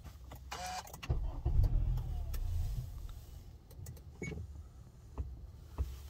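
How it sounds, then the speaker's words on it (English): A car with a P2101 fault code: a short whirring starter sound, then the engine cranks and catches briefly before it sputters and dies, with faint clicks afterward. "The car will kind of start, but then it turns off."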